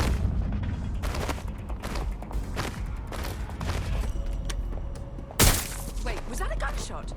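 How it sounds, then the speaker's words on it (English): Gunfire in Watch Dogs: Legion, with muffled shots and impacts under busy game sound and a voice talking. A single sharp, louder bang stands out near the end. "Wait, was that a gunshot?"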